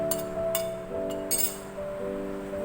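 Chopped green chilli, coriander and mint are mixed in a bowl for aloo paratha filling, giving a few bright, ringing clinks of utensil against the dish spread over a couple of seconds, close and clear.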